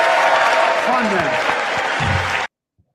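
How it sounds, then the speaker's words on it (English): A political speech audience bursts into loud, dense applause that holds steady for about two and a half seconds, with a voice faintly under it, then cuts off abruptly to silence. "And then you got Republicans right here standing up and clapping."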